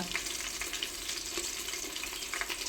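Pieces for a home-made biryani fry and sizzle in a covered pan over medium flame, a steady hiss with brief scraping accents as they are stirred, close and alone without voices.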